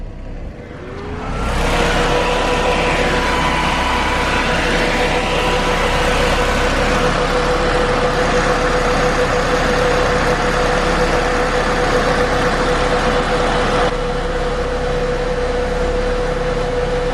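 The electric cooling fan behind a shroud on a 480 hp turbo AWD Honda switches on and settles into a loud, steady whirring hum with a faint tonal whine, heard close with no speech.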